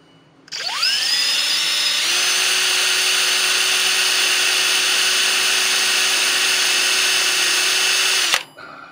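A center drill spins up and cuts steadily into a broken-off bolt, a loud sustained metallic whine with a rising start and an abrupt stop near the end.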